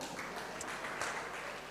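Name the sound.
applause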